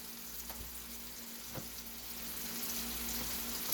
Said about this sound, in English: oh, you can hear the sizzle